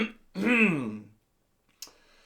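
A single short cough, close and clear in a quiet room, followed by silence and a faint click.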